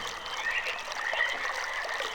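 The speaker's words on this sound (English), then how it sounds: "Like, I hear water." Water trickling in the RealMyst video game, a continuous soft babbling stream with bright burbling at moderate volume, heard alone without talk.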